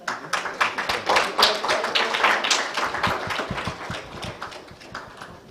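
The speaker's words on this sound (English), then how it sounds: "Please give them a round of applause." A conference audience applauding, dense rapid clapping that swells and then gradually thins out, with no voices over it.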